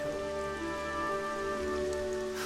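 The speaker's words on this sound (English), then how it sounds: "Why does it always start raining the second we get a chance to be alone?" Steady rain falls in a Dragon Quest XI S cutscene, a dense, even patter that holds for the whole stretch alongside soft sustained tonal background music.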